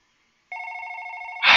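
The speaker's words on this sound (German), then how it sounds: "Das Telefon." Telephone in the horror game One Late Night starting to ring out of silence with a steady electronic trill, cut off about a second later by a sudden louder burst.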